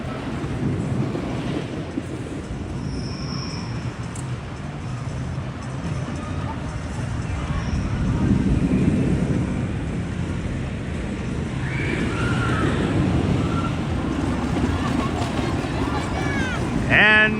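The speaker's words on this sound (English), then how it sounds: "another successful ride on the 97-year-old Coney Island Cyclone" A ride on the 97-year-old Coney Island Cyclone wooden roller coaster in Brooklyn, a continuous rumbling roar with wind rush and swelling surges, close and loud, with voices talking and calling out over it.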